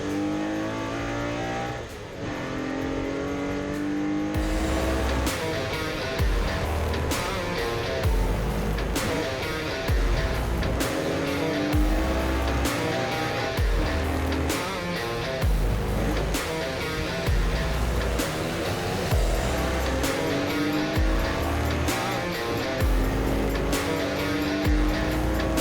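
Porsche 964 race cars racing in the rain at Brands Hatch in a 46-car field, a loud, constant engine roar with repeated revving and gear changes as the cars pass, and no talk.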